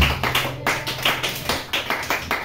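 Church congregation applauding, a close run of rhythmic clapping in roughly regular bursts about three per second, loud and without talk.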